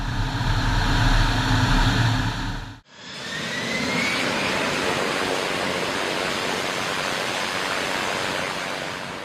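A jet interceptor's engine unleashes full power in a loud, steady roar that bursts in after a short pause and holds, broad and rushing, to the end.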